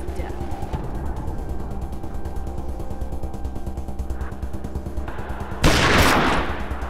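Mechanical clicking and ratcheting of a weapon being reloaded in the post-apocalyptic game Wasteland 2, steady and close over a low hum, ending in a loud, harsh gunshot-like burst.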